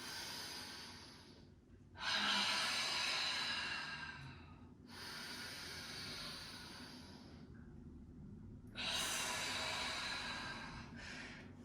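Slow, deep breathing during a yoga twist flow, with three long, close exhales rushing out in sequence and quieter inhales between them, no speech over it.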